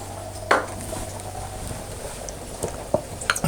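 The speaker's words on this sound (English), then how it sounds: "I'm just going to stir that over, mix all those flavours together." A spoon stirs beef chili with red wine vinegar in a pot, scraping and clinking against the metal in scattered knocks over a low, steady simmering bubble.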